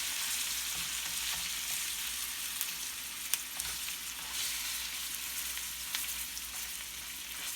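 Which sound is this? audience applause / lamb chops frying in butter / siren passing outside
lamb chops frying in butter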